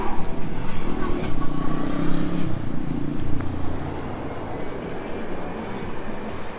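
A Bugatti Veyron supercar passes at the Top Marques Monaco car show with a loud, deep engine roar that peaks early and then slowly fades, backed by street ambience.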